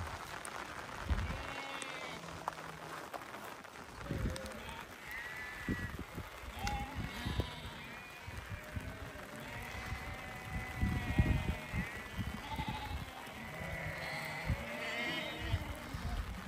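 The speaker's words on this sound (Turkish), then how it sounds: "Koyunlar sadece ısınmak için bu kadar hızlı hareket ediyorlar." Several sheep bleat repeatedly amid scuffling hooves and rustling movement in snow on a misty mountain, with a person talking intermittently in the background.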